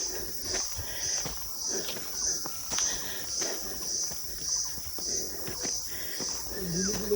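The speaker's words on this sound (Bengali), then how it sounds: "ঝিঝি পোকার ডাক" Crickets chirp along a roadside in Lamahatta, Darjeeling, a steady high pulsing trill repeating roughly every half second, with footsteps and faint background activity mixed in.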